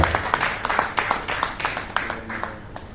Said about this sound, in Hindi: कृपया जोरदार तालियों से स्वागत कीजिए माननीय सांसद संजय सिंह जी का